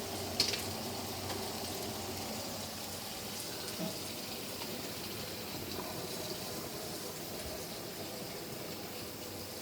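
Pasta water boils steadily in a pot, a continuous bubbling hiss that holds the same level throughout, with no voices.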